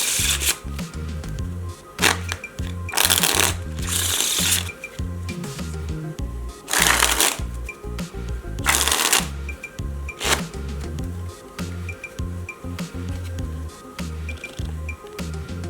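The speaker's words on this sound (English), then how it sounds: "The first step is to shuffle the cards" Playing cards shuffled in repeated riffling bursts during a card-trick demonstration, each burst a loud, crisp flutter with clicks and handling noises between, close-up, over a steady low background of music.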